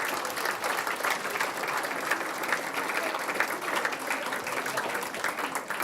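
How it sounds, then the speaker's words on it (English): Steady, dense applause from a large dinner audience at a Carmarthen schools event, honoring the organizer, sustained at an even level throughout with crowd murmur woven in. "a big round of applause for Kieran"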